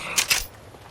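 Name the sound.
weapon reloading in video game Apex Legends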